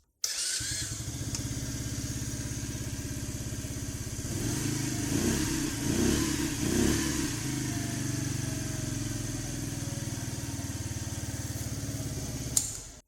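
A Yamasaki F60 50cc scrambler motorcycle engine idles with a buzzy, steady putter, briefly revving up midway before settling back, close and moderately loud with no talk.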